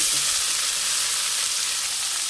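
Cumin and other tempering spices sizzle in smoking-hot peanut oil in a pan, with a steady, loud, close-up frying hiss and no talking.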